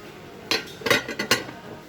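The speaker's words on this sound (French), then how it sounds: "Ah, c'est un grand plat. Un grand plat creux." A large deep serving dish handled among tableware in a store, with a few sharp ceramic clinks and knocks close up, irregular and spaced over a quiet background.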